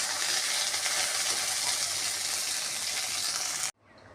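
Fish frying in hot oil in a pan: a steady, loud sizzling hiss that stops abruptly near the end, leaving near silence.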